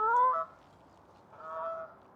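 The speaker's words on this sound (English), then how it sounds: "I've been getting the geese as well flying in slow-mo." Flying geese give two separate honks, a clear nasal call followed by a second one after a short pause, heard fairly close against quiet outdoor surroundings.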